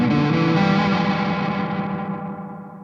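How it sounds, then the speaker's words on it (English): A When The Sun Explodes fuzz pedal from Beautiful Noise Effects pushes a thick, fuzzy overdriven guitar chord drenched in reverb, sustaining loudly and then slowly fading away with a lingering wash. "Now we can add reverb to it."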